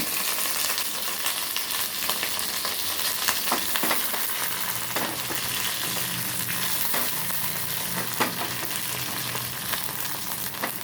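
Curry leaves and dried red chillies for a tempering fry in hot oil with a continuous close crackling sizzle, sharp pops and occasional stirring scrapes throughout.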